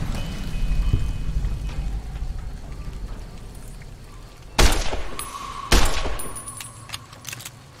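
Steady rain hisses continuously in the Fallout New Vegas video game, broken by two sharp, loud bursts that could be gunfire mid-way, with no talking.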